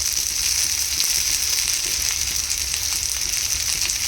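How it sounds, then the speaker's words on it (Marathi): Steady, loud sizzling of onion frying in hot oil, a continuous hiss that holds evenly throughout with no talking. "छान लालसर असा कांदा आपल्याला याच्यामध्ये भाजून घ्यायचा आहे तेलामध्ये"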